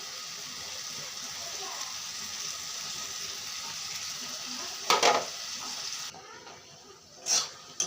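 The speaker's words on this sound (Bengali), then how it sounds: "মশলাগুলো দিয়ে ভালো করে নাড়াচাড়া করে নিয়েছি" Ridge gourd fries in a pan as spices are stirred in, giving a steady close sizzle with a couple of sharp scraping clinks from the spoon against the pan near the end.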